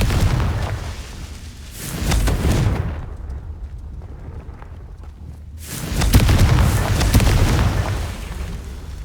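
Deep explosive blasts from a fire-curse spell in a wizarding adventure game, two heavy rumbling booms several seconds apart with a quieter lull between them.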